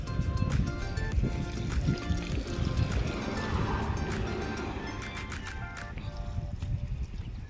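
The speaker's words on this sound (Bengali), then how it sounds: "এখন দাদারা খুব সুন্দর করে গাড়িটারে পরিষ্কার করে দিতেছে" Two men wash a very dirty car with water, sending a close, steady wash of splashing and trickling liquid that tapers slightly toward the end.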